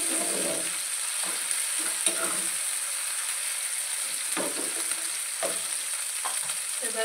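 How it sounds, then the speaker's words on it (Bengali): Onion, garlic and green chili frying in a pan for palak paneer, with tomato and ginger paste just added; a steady close sizzle runs throughout, broken by several soft stirring scrapes. "তো দেখো পেঁয়াজ, রসুন, কাঁচা লঙ্কা সব কিছু ভাজা ভাজা হয়ে গেছে।"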